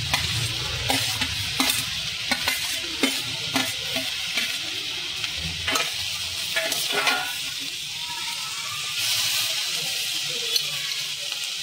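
Corn and garlic fry in a pan with a steady, bright sizzle, broken by a spatula scraping and stirring in quick, irregular strokes, close up and without any talking.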